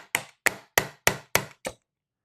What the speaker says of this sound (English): Do this and then get my hammer. And I think I'm going to knock this upwards.